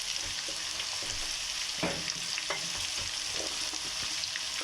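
Ground coriander and turmeric sizzle in hot oil while being stirred into a brain masala curry, a continuous close frying hiss broken by several scraping spoon strokes against the pan.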